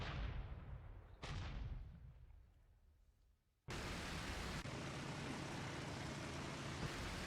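An artillery battery firing in Il-2 Sturmovik, a WWII flight game: a booming blast that decays into a long echoing tail, a second shot, then an abrupt loud roaring rumble that holds steady to the end.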